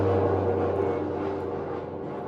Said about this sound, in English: The plane touches down.